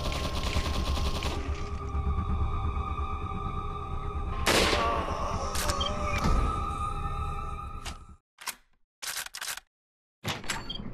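Gunshots ring out in the Resident Evil 4 VR shooting gallery, a video game, with a loud sharp crack and a couple of quicker shots over steady game ambience, before the sound drops into brief clicky gaps.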